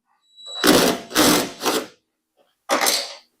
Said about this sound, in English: Going to loosen up this bolt.